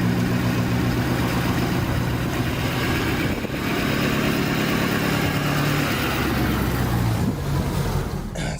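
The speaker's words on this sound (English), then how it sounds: "starting it up's pretty much like every F-250" A Ford F-250 MegaRaptor pickup idling just after startup, a steady loud low rumble with a constant even drone throughout.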